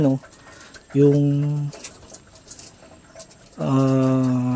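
Pigeons coo nearby in low, throaty bursts, with pauses of soft rustling between calls.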